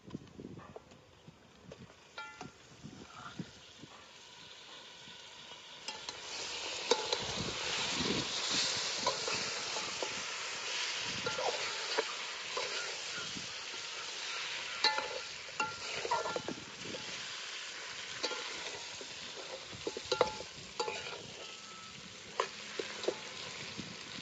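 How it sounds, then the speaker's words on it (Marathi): Mutton pieces sizzle and fry in hot spice masala for mutton pulao while being stirred, a steady crackle that grows louder partway through, with scraping and knocking of the spoon against the pot. "आता हे वापरलेलं मटण त्यात टाकून घेणार आहे."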